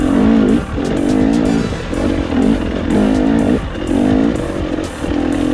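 A KTM dirt bike engine revs on a night ride through Gifford Pinchot, loud and close, with throttle rising and dropping in repeated surges and a steady mechanical drone between them.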